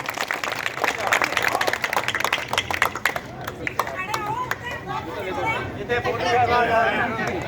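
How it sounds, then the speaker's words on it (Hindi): A village crowd at a Holi song gathering claps for a singer, with scattered, uneven claps close by for a few seconds. The clapping thins out beneath lively chatter and a speaking voice. "जितनी मेहनत की गई उसके हिसाब से तालियां, जोरदार तालियां"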